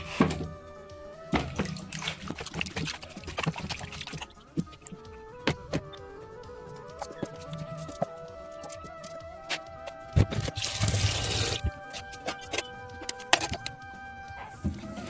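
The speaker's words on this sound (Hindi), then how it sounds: "इसमें मैं फटाफट से आलू धो लेती हूँ" Potatoes are being washed by hand in a bowl of water, with sloshing, splashing and clunks of potatoes knocking together in an irregular, close-up rhythm in a kitchen.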